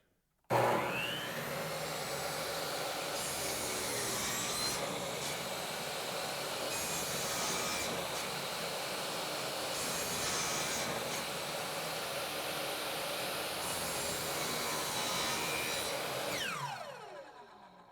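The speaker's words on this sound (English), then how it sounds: "keep dipping the blade, moving the board this way until you get to your mark, and then make the cut." A miter saw cuts through a door trim board, a loud, steady whine running about sixteen seconds with slight surges as the blade dips through the wood, then winding down at the end.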